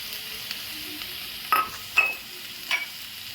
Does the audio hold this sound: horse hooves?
no